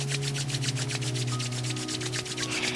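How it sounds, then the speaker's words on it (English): Palms rub briskly together in a fast, even rhythm of repeated swishing strokes, close and steady, over a low background hum. "Begin rubbing your palms together."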